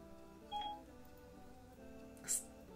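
A phone sounds two brief dialing beeps, faint and spaced about two seconds apart, in an otherwise quiet room.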